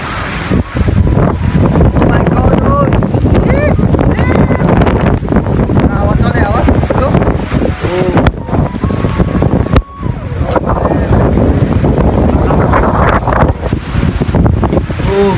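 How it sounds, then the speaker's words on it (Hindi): Strong wind roars loudly and steadily during rain in a rural Nepali setting, buffeting the microphone with gusts and constant rushing noise; a voice speaks briefly amid the wind. "पानी भन्दा नि बढी हावा पो आउँछ नि"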